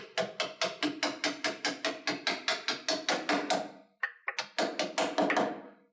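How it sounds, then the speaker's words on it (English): A ratcheting wrench loosens a nut on a rod end in a garage, with a fast, steady train of sharp clicks that pauses briefly and then resumes, close and clear. "We got to pull this nut off, and then we're ready to take that out."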